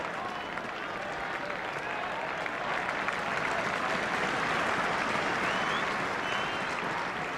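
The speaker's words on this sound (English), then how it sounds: "Crowd rise to young Bryn Gunn." Football crowd applauding and rising at a 1979-80 Nottingham Forest match against Berliner Dynamo, a steady broad roar of clapping that swells slightly midway and holds throughout, with no clear voices on top.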